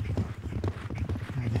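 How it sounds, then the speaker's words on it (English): Horses galloping close by in a dramatised medieval battle scene, their hooves striking in a rapid, loud, irregular clip-clop rhythm that continues without pause. "Damn those horses! They'll chase us all to hell!"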